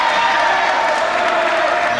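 A darts match crowd in 1988 cheering and applauding for Irish champion Ducksy Walsh, a loud, dense, continuous roar of clapping and shouting that holds steady throughout.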